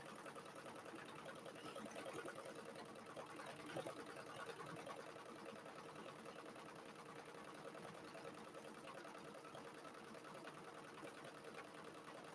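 An embroidery machine stitching out a design in the hoop, a steady rapid mechanical chatter that runs continuously at low level throughout.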